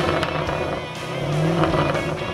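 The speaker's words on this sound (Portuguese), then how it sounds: "isso é uma máquina, uma nave, um ronco do motor impressionante" A Jaguar F-Type R engine gives a loud, continuous roar that stays close and strong from start to finish, with its deep growl swelling slightly partway through.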